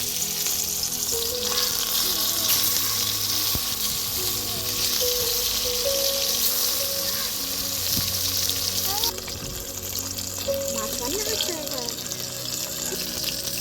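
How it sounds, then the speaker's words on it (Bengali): Bhangan river fish frying in a wok gives a loud, continuous sizzle that holds for the whole stretch, with faint background clatter and a brief drop in intensity near the end. "মাছটা ভাজা চলছে"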